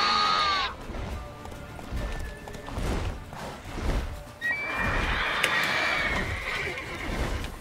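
Roach the horse in the video game The Witcher 3 whinnies loudly at the start, then hooves clip-clop and combat sounds crash through the rest, with a player shouting over the action.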